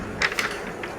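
A balcony door attached to a living room in a Mumbai flat is opened, giving a couple of brief creaking, mechanical clicks and scrapes close by, with quiet room tone between them.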